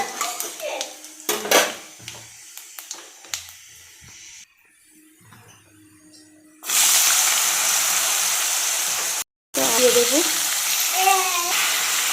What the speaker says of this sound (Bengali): তেলটা গরম হয়ে গেছে তার মধ্যে এই যে শুকনো লঙ্কাগুলো কেটে ফোড়নটাও নিয়েছি তো এখন তেলের মধ্যে দিয়ে দিয়েছি